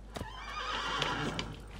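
Horse neighing in the video game Assassin's Creed 2, a short whinny with some hoof clatter mixed into steady game background sound, moderately loud and with no talk over it.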